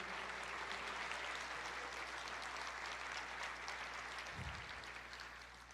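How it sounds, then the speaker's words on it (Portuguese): A church congregation claps together in praise of the Lord, producing a dense, sustained wash of applause that holds steady and then slowly fades toward the end, with no voices over it. "Você pode aplaudir o Senhor"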